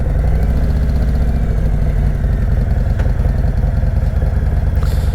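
A custom 2018 Harley-Davidson Road King Special idling close by, a loud steady low rumbling engine with an even loping pulse throughout and no speech.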